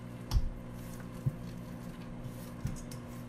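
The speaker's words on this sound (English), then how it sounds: "I'm gonna just stir this around until it's combined." Banana bread batter being stirred makes a soft, wet squish, with three light thumps of the spoon against the bowl over a quiet background.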